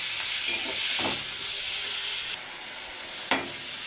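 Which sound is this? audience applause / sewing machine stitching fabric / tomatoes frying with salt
tomatoes frying with salt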